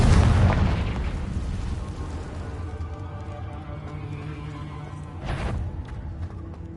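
A Confringo spell explosion in Hogwarts Legacy: a loud, deep boom up front that decays into a long rumbling tail, with a second smaller burst a few seconds later.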